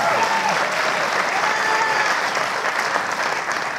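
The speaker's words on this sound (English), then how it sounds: "give him a round of applause" Audience applause for a man being introduced on stage, a steady, fairly loud wash of clapping lasting the whole stretch, with faint voices underneath.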